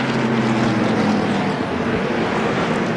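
A NASCAR stock car at the 2001 MBNA.com 200, smoking heavily as it comes down pit road, gives a loud, close engine drone that holds steady and then roughens and fades slightly, with no voices.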